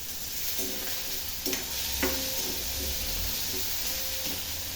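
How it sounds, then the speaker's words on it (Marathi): Tomatoes fry in a pan, giving a steady hiss of sizzling with a few soft scrapes and taps of stirring, heard close up and without any talk. "त्याच्यानंतर टमाटर पण टाकायचं आहे कारण टपा टमाटर चांगलं भाजून घेतलं"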